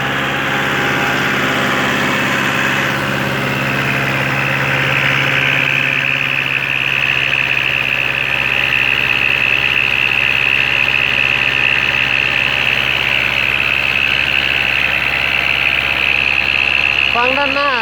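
An L4708SP tractor engine with twin exhaust pipes is revved and held at a steady 2,000 rpm, a high, roaring pitch, close and harsh throughout, with no talking.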